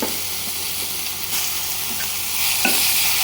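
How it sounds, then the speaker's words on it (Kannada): Fenugreek leaves, onion and masala stirred and fried in a pan, giving a steady close sizzle with scraping stir strokes throughout, no voices. "1 ನಿಮಿಷ ಚೆನ್ನಾಗಿ ಬಾಡಿಸ್ಕೋಬೇಕು, ಅದು ಫ್ರೈ ಮಾಡ್ಕೋಬೇಕು."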